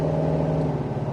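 A 1968 Chevrolet Chevelle V8 with a newly fitted exhaust rumbles steadily close by, a deep droning engine note holding fairly constant without sharp revs.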